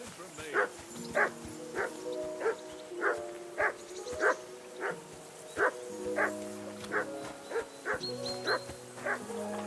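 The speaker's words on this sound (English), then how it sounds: "Go away, Mutt. You'll get nothing from me" A dog in the video game Kingdom Come: Deliverance barks again and again in an even rhythm, about a dozen loud, close barks over a soft tonal background.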